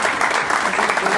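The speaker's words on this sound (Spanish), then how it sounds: "Fuerte el aplauso." A crowd claps at a school ceremony presenting science laboratory equipment to secondary schools, a brief, loud, dense burst of applause heard up close.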